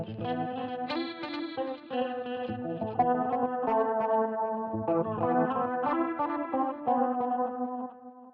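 Electric guitar run through a Line 6 Helix with distortion, chorus and echo, chordal notes swelling and pulsing in and out with the rhythm, close and full for several seconds before fading, no talking.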